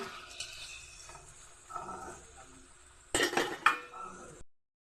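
Fried milkfish and a little dried fish being mixed in a pan, soft scraping and clinking of a utensil against the metal, then a louder burst of clattering near the end before it cuts off.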